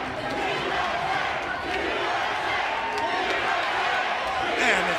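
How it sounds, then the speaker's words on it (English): A lively pro wrestling arena crowd roars and cheers continuously at a Slammiversary event, a loud sustained din with shouts rising near the end while someone talks over it. "Man, this crowd's electric."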